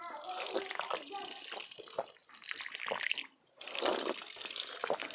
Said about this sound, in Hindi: मुख से जो भी पानी गिर रहा है वो पाइप द्वारा यहाँ जलधारा पड़ रही है